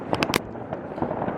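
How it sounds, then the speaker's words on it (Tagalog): New Year fireworks burst in a quick cluster of sharp cracks and pops at the start, followed by softer scattered bangs and a crackling rumble at moderate distance. "Wait lang, pakita ko muna sa inyo mga fireworks ito"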